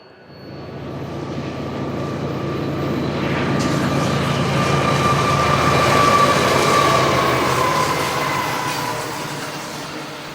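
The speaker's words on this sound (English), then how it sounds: "an eastbound ZL-AMQ blasts by and reveals the 844 under a full head of steam on this crisp morning." Union Pacific 844 steam locomotive under a full head of steam passes on a crisp morning in Arizona or New Mexico, a loud, steady roar that swells toward the middle and slowly eases, with a faint whistle-like tone running through it.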